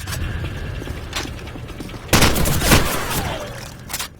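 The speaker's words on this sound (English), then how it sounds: "Ah, I tried to shoot Price, yeah" Gunfire in the game Modern Warfare, with a loud burst of shots and a booming blast after a stretch of mechanical clatter, close and harsh, followed by a short fading whine and a final crack.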